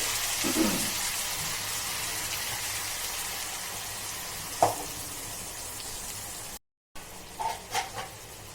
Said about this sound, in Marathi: तेल गरम झालं आपल्या कढईमध्ये आता यात टाकूया आपण मसाला